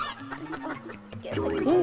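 A chicken clucks and squawks close by, its calls rising into a sharp cry at the end, with people talking underneath.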